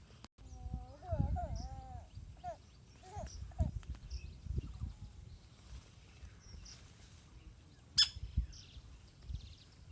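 Faint chirps of a bird feeding on a banana flower near rice paddies come through now and then under close conversation, with one sharper chirp standing out near the end.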